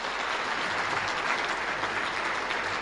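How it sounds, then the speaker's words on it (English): A hall of fame induction crowd gives a steady round of applause, dense continuous clapping filling the room at even volume throughout without pause. "Let's give him a round of applause."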